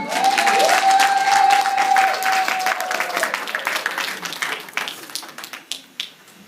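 A church congregation bursts into loud applause with cheering and voices, dense clapping that slowly thins into scattered claps.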